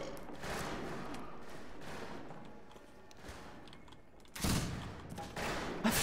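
Gunfire in the Western shooter game Fistful of Frags, a steady stream of rapid shots and fusillades throughout, growing louder and denser near the end.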